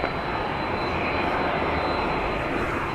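A fixed-wing airliner on the runway at Dallas Love Field, a loud, steady engine roar that fills the whole stretch with broadband rumble and no pauses.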